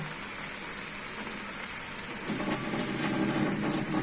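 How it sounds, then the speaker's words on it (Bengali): Water poured into a hot cooking pan of sautéed pointed gourd with tilapia and papaya and bottle gourd peels, a steady broadband hiss that swells louder partway through, with no talking. "এখন আমি এটা পানি অ্যাড করে দিব"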